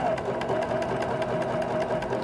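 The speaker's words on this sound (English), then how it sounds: "Then you just straight stitch down along the edge of the design again, and this will give your permanent stitching." A sewing machine runs steadily, straight stitching along the edge of an embroidered trapunto design through three layers of fabric, with a fast, even mechanical whir that continues unbroken from start to finish.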